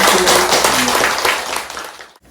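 Applause from a meditation-class audience in a hall after an opening ceremony, a dense wash of many hands clapping close and loud for about two seconds before it cuts off abruptly.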